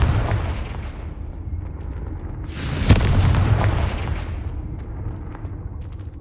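A Confringo blasting spell from Hogwarts Legacy erupts in a loud, deep boom with a sharp crack, then a rumbling roar decays over several seconds beneath steady low background noise.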